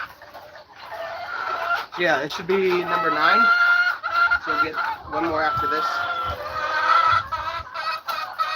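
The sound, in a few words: chickens clucking, native and layer hen mix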